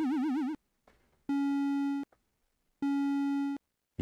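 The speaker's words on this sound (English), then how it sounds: "You can see the speed of the warbliness increases as we increase vibrato speed." Synthesized 8-bit tone made in BFXR: a short buzzy note with quick vibrato, then two longer flat steady beeps with gaps between them, clean and electronic and heard alone.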